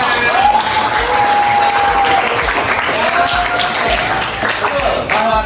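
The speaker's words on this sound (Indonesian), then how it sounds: "Oke, kita kasih tepuk tangan." A classroom group gives loud, sustained applause, dense clapping filling the whole stretch with some voices and cheers mixed in.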